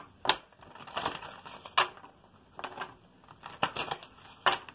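Tarot cards being shuffled and cut by hand: a run of soft papery riffles and slaps, several quick bursts close to the mic, with no talking.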